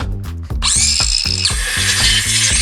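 A power driver or ratchet tightens special bolts while a table is built, giving a steady mechanical whir under a regular clicking, pulsing rhythm that sits close and loud throughout, with no voices.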